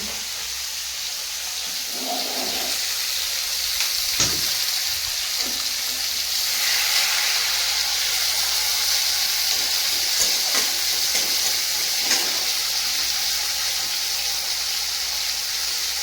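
Onions frying in a hot pan for an egg curry, a steady close sizzle and hiss with occasional stirring scrapes and clinks throughout.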